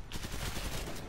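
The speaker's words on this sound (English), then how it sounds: "Just had to shoot through Assassin's noggin real quick, no biggie." Rapid, dense automatic gunfire from the video game Killing Floor 2, loud and continuous for about a second with no talk over it.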